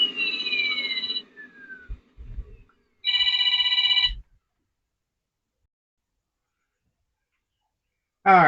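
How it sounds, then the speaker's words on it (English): A telephone rings in a workshop where a Revell Star Wars Slave-1 model kit is being built, giving two loud electronic trilling bursts separated by pauses, with some brief clattering in between and a third ring starting at the end. "sorry about the phone call"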